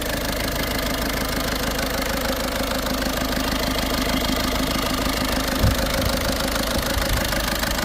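Faulty car engine idling with a gas leak and an air mass sensor tied off, running close with a steady uneven knocking rumble and one brief thump near the end.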